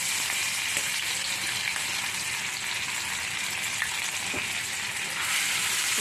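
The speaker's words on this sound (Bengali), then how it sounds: "তেলটা গরম হয়ে গেছে। এবার প্রথমেই আমি আদা কুচিটা দিয়ে দিলাম।" Chopped ginger fries in hot oil, giving a continuous, even sizzle close by with faint scraping stirs, and no voices over it.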